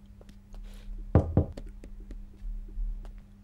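Two firm knocks on a door in a quiet room of a Hindi horror film, sharp and close, heard alone over a low steady hum.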